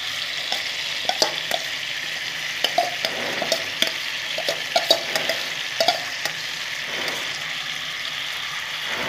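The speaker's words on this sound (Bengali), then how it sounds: "ডালিয়া, মুগ ডাল আর সবজির সাথে আমি ভালো করে ভেজে নেব।" Soaked daliya, mung dal and vegetables fry in a pan, a steady sizzle broken by repeated scraping and clattering strokes as the mixture is stirred close up.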